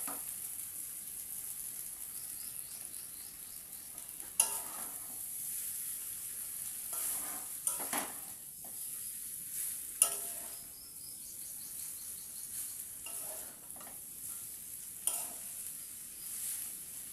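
Chowmein tossed with fried potatoes sizzles softly in a pan, with occasional spatula clinks and scrapes at a slow, uneven pace, quiet and close.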